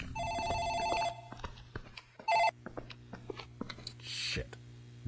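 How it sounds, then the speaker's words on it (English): Office telephone ringing in the indie horror game Dark Fracture, a steady electronic bell tone repeating in bursts over low background hum with small clicks and footsteps around it. "Well, the phone's ringing. Probably an important phone."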